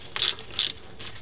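A socket ratchet tightening a pinion shaft retaining bolt on a car axle: two short, close clicking strokes followed by a fainter third, with no talking.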